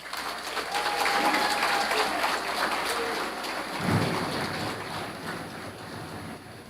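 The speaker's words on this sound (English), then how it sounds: "Give her a round of applause." Audience applauding at a police Christmas award ceremony, a steady wash of many hands clapping that fills the room, swelling midway and continuing throughout.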